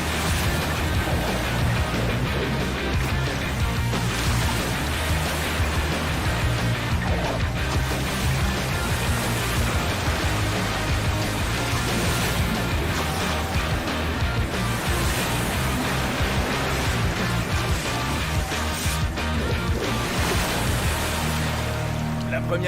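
Ocean waves at a surf spot roar in a dense, continuous wash of surf, loud and close throughout, with no break in the crashing water.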